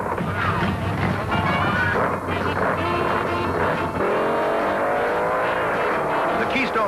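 Drag racing at the 1972 UDRA Springnationals: loud, dense roar of race cars launching and running down the strip, with one car blowing its engine halfway down, continuous and close throughout.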